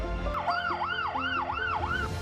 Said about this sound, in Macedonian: Целиот град се разбуди од сирените на амбулантните и полициските возила.